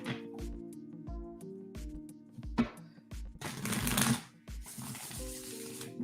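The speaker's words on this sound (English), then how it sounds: "Oh, that was a bad shuffle." Tarot cards are shuffled by hand in quick bursts of crisp riffling and flicking, close and clear, with a longer rushing riffle midway and no talking.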